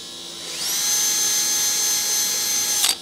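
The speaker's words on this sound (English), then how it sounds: "let me go get a drill" An electric drill spins up with a rising whine and holds a steady high-pitched buzz while boring a hole in a Ford truck, ending with a short rattling burst as it finishes; close and clear with no talk.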